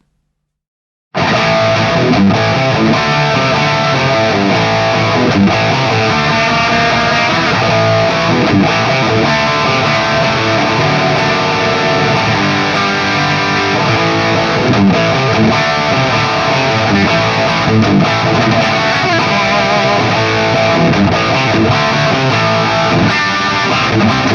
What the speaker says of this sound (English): This pickup is often used to obtain crushing metal tones, so here's how it sounds through the AFD100.